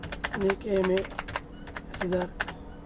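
Quick bursts of computer-keyboard typing while writing a ChatGPT prompt, close and crisp keystrokes in two clusters, with someone talking intermittently between and over them.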